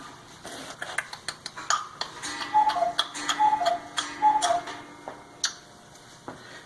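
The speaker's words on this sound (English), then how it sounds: "That's my cuckoo clock." A cuckoo clock ticks steadily and close, its clicks punctuated by three soft two-note cuckoo calls in the middle, with no voices.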